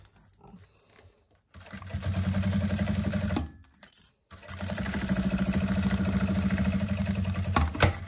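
Sewing machine stitching a passport holder, running in two long steady bursts of rapid mechanical chatter separated by a short pause, close and fairly loud.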